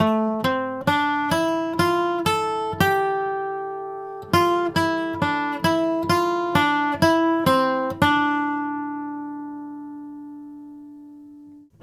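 A bright acoustic guitar picks a quick bluegrass run of single notes, then lets a final note ring out and slowly fade.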